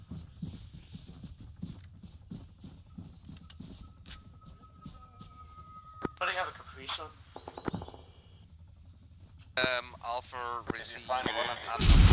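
Mortar fire in a military video game, heard as a series of dull distant thumps followed by sharper louder blasts near the end, with radio-style voices talking over the action.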